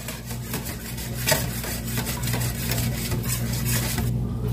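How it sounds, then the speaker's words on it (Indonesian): Cake batter with two eggs stirred in a bowl, a steady scraping and rubbing of utensil against the bowl that runs close and continuous with no speech. "Aduk lagi."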